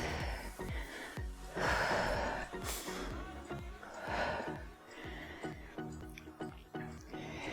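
Heavy, ragged breathing after a standing cardio and dumbbell workout, repeated loud gasping inhales and exhales in an uneven rhythm, close to the microphone with no talking.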